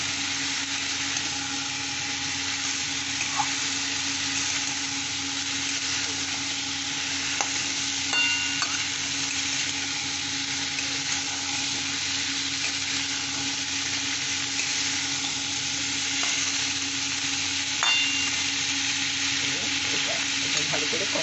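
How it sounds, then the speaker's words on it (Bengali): Mixed vegetables sautéing in a pan for a Bengali vegetable curry, a continuous steady sizzle with occasional clinks of a utensil stirring, close and even throughout. "এই সবজিগুলো এখন আমি এটা ভালো করে কষে নেব।"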